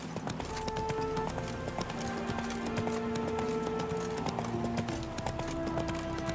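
Roach the horse galloping in The Witcher 3, rapid continuous hoofbeats pounding steadily throughout over sustained tonal game music.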